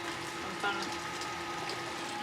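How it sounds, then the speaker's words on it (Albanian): A baby bottle washing and sterilizing machine that washes, dries and sterilizes bottles and dishes, running with a soft, steady hiss and spray of water like light rain, fairly quiet and continuous throughout. "kam gjetë zgjidhjen me aparatin që lan biberonat"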